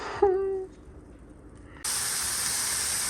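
Mushrooms sizzle in a frying pan on a home stove, a steady loud hiss that starts abruptly after a brief tonal clatter and a quiet pause.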